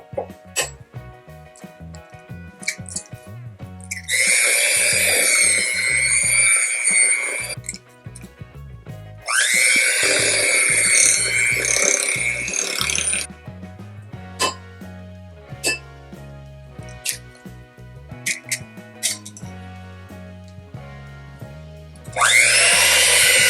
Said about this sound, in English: make sure that the eggs are nice and whipped